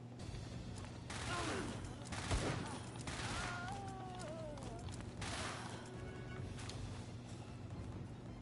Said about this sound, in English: I'll use the combat SMG for the whole thing.